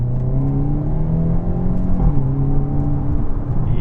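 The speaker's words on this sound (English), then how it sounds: "let's give it a few revs here." Engine of a 2022 Hyundai Elantra N revving while stationary, a loud close growl that rises and falls through a few revs, with no talking.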